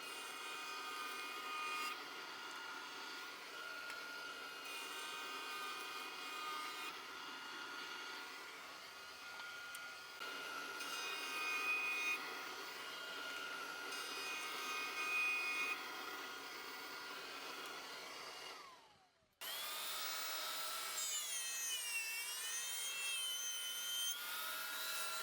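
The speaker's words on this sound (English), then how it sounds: "Over to the jointer." Jointer machining a board of Garry Oak hardwood, a steady loud whirring drone with a rough cutting texture that cuts off abruptly, then a higher whining run resumes.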